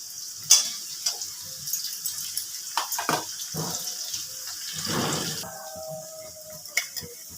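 Sliced onion goes into potatoes already frying in oil, bringing a soft, fairly quiet sizzle with several stirring clatters and a louder hiss as the pieces hit the pan, fading toward a gentle crackle.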